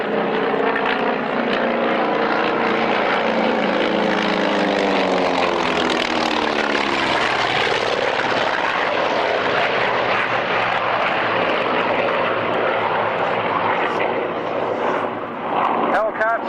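A Grumman Bearcat and Tigercat fly over the Duxford airshow with a loud, sustained piston-engine and propeller roar whose pitch shifts as they pass, while an announcer talks over it throughout.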